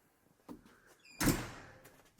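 A shop door closes, with a light knock followed a moment later by a louder, fuller thud, close by and with no voices.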